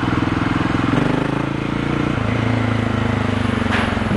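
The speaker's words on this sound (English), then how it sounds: "there you have it, the sound of an IXIL exhaust" A single-cylinder motorcycle fitted with an IXIL Sove Hexoval Xtrem Evolution slip-on exhaust idles and revs, giving a loud, steady, close thumping drone with a slight rise in pitch partway through.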